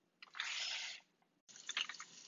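Water gushes into a small container in two short bursts, a steady pour followed by a brief pause and then a splashier, gurgling fill, close and fairly quiet.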